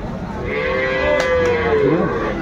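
A single loud, close moo from a dairy cow at a cattle market, long and drawn out, sliding downward at the end.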